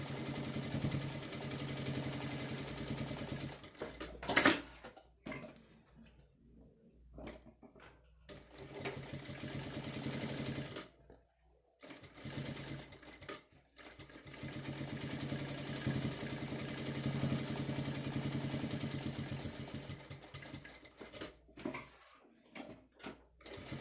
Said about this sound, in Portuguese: passar uma costura reta em toda a volta. E para isso eu vou colocar o ponto número 4